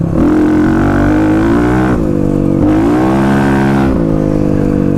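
A Kawasaki KLX351 dirt bike on new Tusk Dsport tires revs hard with the rear tire spinning, a loud sustained engine drone that rises and dips through gear changes, close up and continuous.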